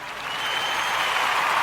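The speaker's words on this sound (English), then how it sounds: "we want to give all of the Kuumba babies a round of applause" A crowd claps steadily, a dense wash of applause building slightly in volume over a short stretch.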